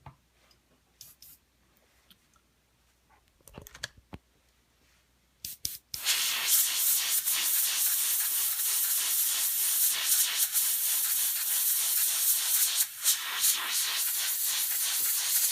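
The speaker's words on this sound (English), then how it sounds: "It's a real thin airbrush paint, and again I'll be using the Iwata Micron." An Iwata Micron airbrush sprays thin Badger Black paint while model horse hooves are striped: a few faint ticks and clicks, then a steady close hiss that runs on for several seconds.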